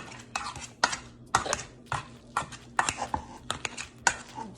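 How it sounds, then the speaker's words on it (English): A potato masher pressing and scraping through cooked potatoes in a hot pot, giving repeated wet squelching thumps and clinks of metal on the pot in an uneven, steady rhythm, close and fairly loud. "You want to get in there and mash this potato together"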